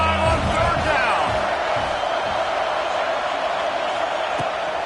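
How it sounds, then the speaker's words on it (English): Ohio State Buckeye home crowd in College Football 26 roaring on third down, a constant dense stadium wash with a commentator talking over it. "The Buckeye crowd alive on third down."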